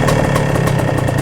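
A Lambretta scooter's two-stroke engine runs at a loud, close, steady idle with a rapid rhythmic putter, with no voices.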